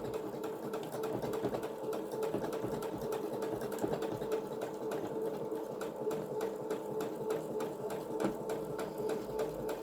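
A sewing machine stitches steadily throughout, a continuous fast mechanical whirr and rattle at a moderate level, freshly cleaned and brushed out, with no break in the running.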